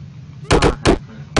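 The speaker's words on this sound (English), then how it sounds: "Grenade!" A grenade goes off in the 2D action game Superfighters: three sharp, loud explosive bursts in quick succession, each a short crackling blast over a low background hum.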